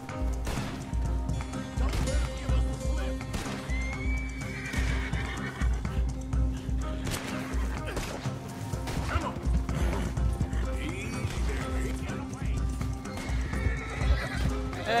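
A horse whinnies loudly over steady galloping hoofbeats amid dense, busy game sounds in Red Dead Redemption 2.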